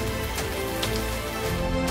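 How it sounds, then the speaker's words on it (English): Steady rain falling on a surface, a dense continuous patter with no voices, even and moderately loud throughout. "Rain."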